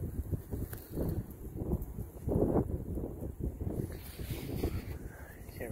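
Gusty wind buffets a microphone outdoors during a coin-collecting outing, a steady low rumble that swells and fades over several seconds, with faint rustling underneath.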